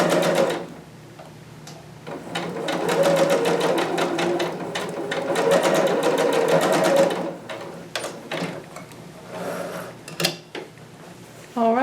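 Sewing machine stitching darts on a dress bodice, a close rhythmic mechanical chatter in bursts of varying speed with short pauses and clicks between seams.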